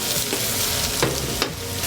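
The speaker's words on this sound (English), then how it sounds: "Now we have the mushrooms cooking." Mushrooms seasoned with salt and pepper sizzle steadily in a pan, a close, continuous frying hiss with a few soft scrapes of stirring and no talk.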